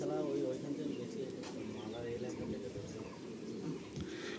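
Pigeons coo softly in a loft housing white Madrasi pigeons, a low steady murmur of overlapping coos with faint chirps, as someone talks over them throughout.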